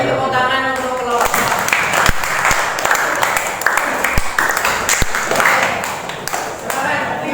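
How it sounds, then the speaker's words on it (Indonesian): A classroom of people claps in a dense burst of applause for a presenting group that carries on for several seconds, with voices mixed in. "Beri tepuk tangan untuk kelompok"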